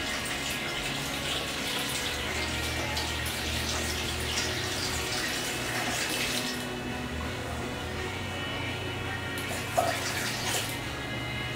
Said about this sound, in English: let's just top it up with some apple juice here